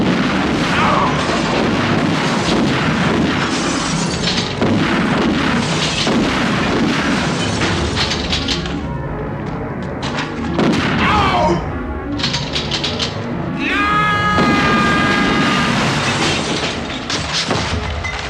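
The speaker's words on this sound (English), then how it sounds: "So him and Raggedy Ann get to blasting." Gunfire from the 1981 film Scanners, a dense, loud run of shots and blasts over a steady action-score backdrop, with a brief lull midway before the firing resumes.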